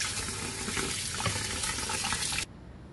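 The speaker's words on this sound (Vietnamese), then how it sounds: "mình đi rửa giá rửa rau" A tap runs in a kitchen sink as bean sprouts and vegetables are washed, a steady close gush of water that cuts off abruptly near the end.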